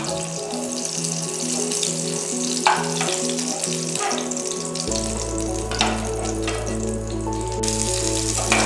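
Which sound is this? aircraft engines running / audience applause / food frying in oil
food frying in oil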